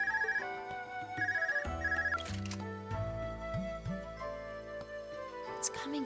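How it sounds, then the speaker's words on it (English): Cell phone ringtone in Legend of Heroes: Trails of Cold Steel, a repeating electronic tone sounding three times over game background music, with music continuing afterward. "Your cell phone's ringing."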